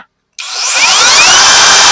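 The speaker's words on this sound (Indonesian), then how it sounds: "Jadi kalau kita pencet langsung full ke dalam dengan RPM yang sangat tinggi, dia tidak langsung melonjak." A TOTAL cordless hammer drill triggered straight to full speed, a sudden whining motor that starts after a brief silence and climbs steadily to a loud, high sustained pitch, close by with no talking.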